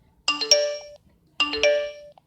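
The default notification tone on a General Mobile 4G phone plays twice, each a bright, clean multi-note chime with silence between.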